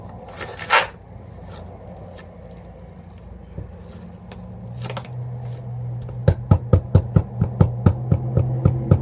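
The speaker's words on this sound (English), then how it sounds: "I need to get this whisking if I'm going to whisk it" Lumpy rebatched soap whisked in a small bowl, starting with quiet scraping and rubbing, then turning into a fast, regular series of sharp rhythmic taps and clicks as the whisk beats steadily.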